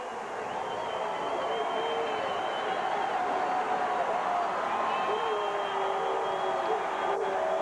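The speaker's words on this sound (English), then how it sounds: "The crowd's coming to life." A steady crowd roar fills the stands at a 2002 Montana Grizzlies college football game against McNeese, a dense continuous wash of cheering with a commentator's voice running over it.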